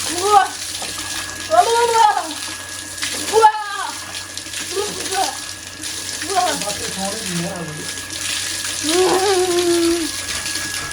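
Water running steadily while a muddy dog is bathed, with a constant hiss of flowing water beneath frequent nearby talking.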